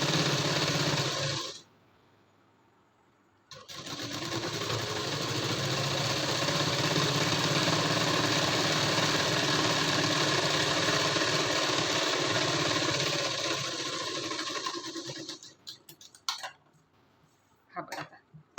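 A sewing machine stitches a puff sleeve blouse piece in one steady, continuous run after a short pause, ending with a few irregular clicks and stops.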